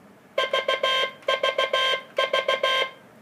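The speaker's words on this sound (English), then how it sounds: "Lightweight sounds like this." Slow light-weight Morse code beeps at about 15 words per minute in three short groups, crisp tone bursts with brief gaps between characters, clear and alone.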